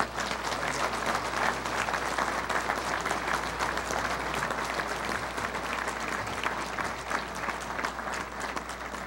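A banquet crowd at a University of Central Arkansas awards evening gives sustained, dense applause that stays loud and even for the full nine seconds, with no voices rising above it.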